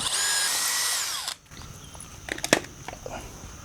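A power drill whines loudly for over a second as it bores a pilot hole through a wooden board, then stops, followed by a few light knocks and handling noises.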